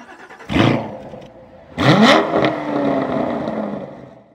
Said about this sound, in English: give it give it a full rev